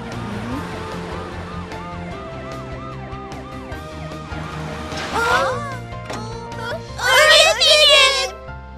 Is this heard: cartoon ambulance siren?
yes